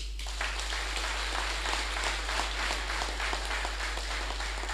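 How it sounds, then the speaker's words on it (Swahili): An audience applauds the chairman at an ACT party campaign launch in Majid Hall: a quiet, continuous patter of many hands clapping, heard alone without talk. "naomba mumpigie makofi mengi sana mwenyekiti wetu"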